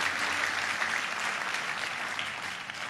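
A church congregation applauds for Jesus with dense, sustained clapping that fills the room loudly and evenly for the whole stretch, slowly tapering slightly toward the end.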